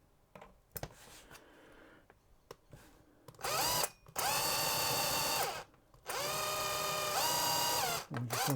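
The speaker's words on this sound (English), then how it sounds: "I'm just going to drill the head off at this point." A power drill drilling the head off a screw on a toy figure whirs in two long, loud bursts, its pitch steady, after a few short taps and clicks at the start.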